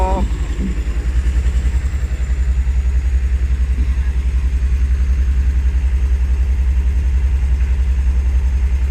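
An old Komatsu excavator's Isuzu engine runs at a steady idle, its low, rapid chugging pulse close and loud and continuing evenly throughout, with someone speaking briefly over it at the start.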